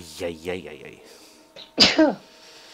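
A single loud, close sneeze bursts out after a short stretch of playful voiced sounds during a League of Legends gaming session.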